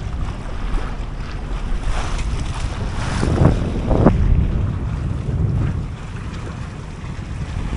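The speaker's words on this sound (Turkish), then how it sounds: "Rüzgar hafif basmaya başladı şükür." Wind rushes steadily past a sailing yacht under full sail off the Greek coast, a loud continuous roar buffeting the microphone with swells of water and hull noise beneath.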